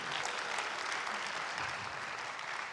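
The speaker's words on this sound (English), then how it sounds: "Please, a round of applause for him." A concert audience applauds a guest conductor before a pre-concert talk, giving dense, steady clapping heard from a distance throughout.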